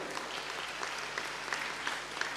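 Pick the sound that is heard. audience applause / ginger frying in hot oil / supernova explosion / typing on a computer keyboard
audience applause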